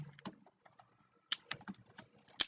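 Quiet typing on a computer keyboard while a CSS class name is entered, a sparse scatter of soft key taps ending in one sharper, louder press, with no talking.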